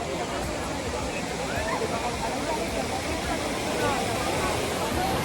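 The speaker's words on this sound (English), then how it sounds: "Come to the Trevi fountain." Trevi fountain water splashing and rushing steadily in a busy square, a dense hubbub of crowd chatter mixed into the constant wash of water throughout.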